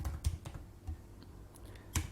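Keystrokes on a computer keyboard while an SQL query is entered, a few sparse, light clicks spread irregularly with a louder tap near the end, close and quiet with no talk.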